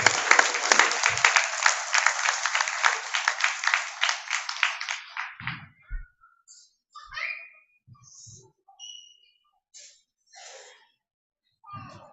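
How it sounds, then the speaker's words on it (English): Crowd applause at a Hare Krishna Vyas Puja celebration as devotees come on stage, a dense, loud roar of clapping for about five seconds that thins out and stops, followed by scattered quiet voices and small noises. "can we hear a huge round of applause for them?"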